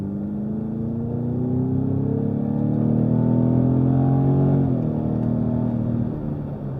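Jaguar F-Type sports car driving over a very bumpy road, its engine a steady loud rumble that rises in pitch as it accelerates, then drops briefly on a gear change before continuing, with no talking.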